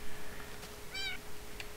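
A single short meow from a cat in the Minecraft video game rings out clearly over low background noise.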